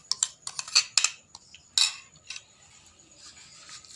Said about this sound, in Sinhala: අපි අපේ පළතුරුයි මේ බටර් මිශ්‍රකම දාගෙන හොඳට පෙරලා ගන්න ඕනේ